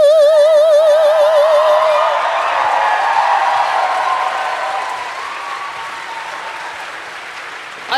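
A live audience at a comedy podcast taping in Chicago claps in loud, dense applause that slowly thins and fades over several seconds.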